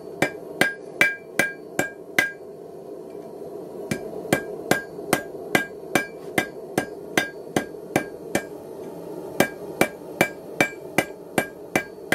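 A hammer strikes a solid steel striker on an anvil horn, shaping it oval: sharp, ringing metallic blows in quick, regular runs with short pauses, close and loud over a steady background hum.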